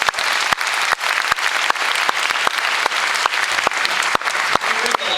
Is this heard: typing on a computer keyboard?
no